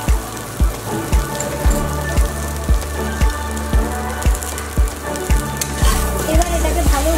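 Kochur loti (taro stolons) fry in a pan with a steady sizzle, broken by regular evenly spaced thumps from stirring and a faint voice underneath.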